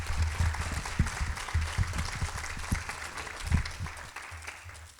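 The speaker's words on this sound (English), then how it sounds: "one more big round of applause for all of our honorees here today" Applause for honorees at a nonprofit awards program, a moderate, fairly quiet round of clapping that rises and tapers off toward the end.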